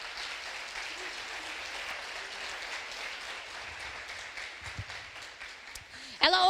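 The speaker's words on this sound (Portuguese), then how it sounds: "Aplauda o nome do Senhor" Church congregation applauding during a Portuguese-language sermon at Lagoinha Venda Nova, a steady dense wash of clapping held at an even level throughout, with a brief voice breaking in near the end.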